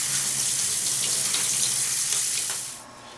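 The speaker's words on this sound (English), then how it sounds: "So we're going to clean off our greens." Asian greens such as pak choy are rinsed under a running kitchen tap, giving a steady rushing hiss of water that cuts off abruptly near the end.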